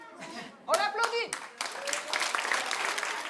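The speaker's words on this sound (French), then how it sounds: "On applaudit." Audience at a theatre forum on stereotypes and education breaks into scattered clapping that builds into fuller applause, with a voice speaking briefly over the start.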